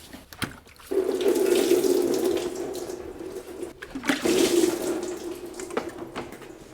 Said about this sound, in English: when I disconnect the lower radiator hose, it'll all come out there